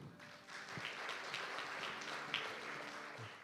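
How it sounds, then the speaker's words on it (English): Applause from a seated audience at the 2022 Seoul Science and Technology Forum, welcoming the chairperson of the National Research Council of Science and Technology; a steady, fairly quiet patter of clapping throughout. "Please give him a warm round of applause."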